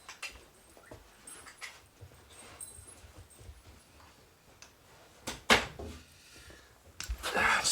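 Dogs whimpering and yipping indoors, a run of soft, intermittent high whines with a few sharper yelps and rustling near the end, fairly close and moderately quiet.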